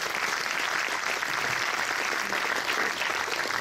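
Sustained applause from a large crowd at a festival opening ceremony, dense and even, filling the whole stretch at a steady loudness.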